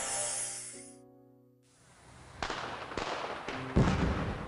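Fireworks display bursts: after a few seconds of fading tonal music, several sharp pops and crackles sound at moderate distance, each trailing off quickly, with a louder burst near the end.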